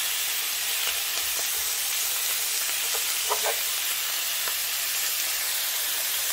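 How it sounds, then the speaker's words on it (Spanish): Beef chunks searing in a hot pot for sancocho, a loud steady sizzle and hiss throughout with faint scattered pops and crackles, close and uninterrupted. "le vamos a tirar y ahí se sella la carne"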